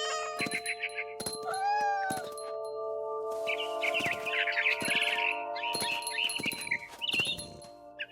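A cat meows a few times in the video game What Remains of Edith Finch, over a steady synthetic game soundscape of sustained tones and chirpy effects, with no talking.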